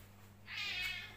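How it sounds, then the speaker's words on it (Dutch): A house cat meows once, a clear close drawn-out call rising out of a quiet room with a faint steady hum underneath, no one speaking. "de kat komt erbij kijken"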